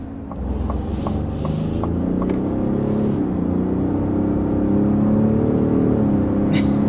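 A pickup truck with an 8-speed automatic accelerates from inside the cab, a steady engine rumble building with shifting tonal hum, with a few faint clicks early on.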